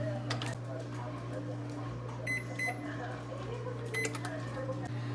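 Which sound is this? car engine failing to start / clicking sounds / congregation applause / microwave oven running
microwave oven running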